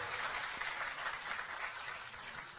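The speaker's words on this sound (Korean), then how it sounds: "여러분 큰 박수 부탁드립니다" An audience at a community presentation contest applauds, a dense, even wash of clapping heard at a moderate distance for a few seconds.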